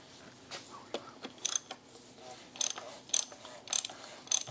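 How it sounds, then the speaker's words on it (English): Big 24 mm ratchet being worked on a BMW 650i N62 during an oil and transmission fluid change, giving about five bursts of sharp metallic clicking at irregular intervals, close and moderately loud with no talk. "Get our big ratchet. It's 24 mil."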